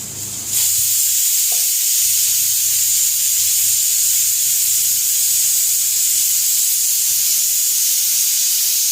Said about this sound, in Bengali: ওদিক দিয়ে বড়া ভাজা হইতেছে